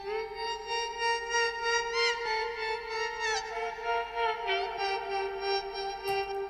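A sung vocal line in an FL Studio project rings with reverb added from a send channel, with sustained, gliding notes that trail into a soft wash, heard alone.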